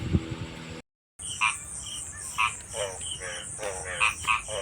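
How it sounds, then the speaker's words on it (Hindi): Frogs croak repeatedly in short rhythmic bursts over a constant high insect drone, several calls spaced apart, moderately near in a quiet night setting. "मेंढक की आवाज़ सुनाई देगी आपको।"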